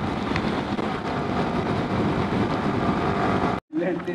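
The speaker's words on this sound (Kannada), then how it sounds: "ಈ ಊರಲ್ಲೇನೆ ಸಿಕ್ಕಾಬಟ್ಟೆ ಮಳೆ ರುಬ್ಬಿಟ್ಟು ಹಾಕಿ" Heavy monsoon rain pours down steadily as a dense, continuous wash, then cuts out briefly just before the end.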